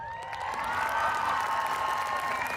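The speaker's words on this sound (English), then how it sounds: "Lots of applause." A graduation crowd applauds and cheers as a student in a wheelchair stands and crosses the stage, a dense, steady wash of clapping and voices that holds at full strength throughout.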